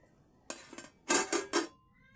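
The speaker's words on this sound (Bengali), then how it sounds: "ঢাকনাটা খুলে রসুন কুচি দিয়ে দিয়েছি" A metal pot lid being lifted and set down while cooking a gourd-leaf dish with chopped garlic, heard as a handful of close, bright clinks and scrapes in quick succession.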